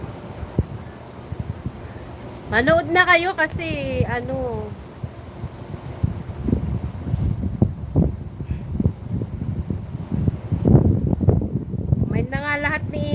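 Gusty wind rumbles against a microphone outdoors in cold, breezy weather, a low buffeting that swells and drops throughout while someone talks over it.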